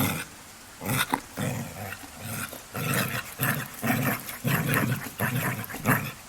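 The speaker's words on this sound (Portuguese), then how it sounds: "Às vezes eu olho porque o meu cachorro aponta algo e late" A pet dog growls and barks in a run of rough, throaty bursts indoors at moderate distance, repeated irregularly with no voices over it.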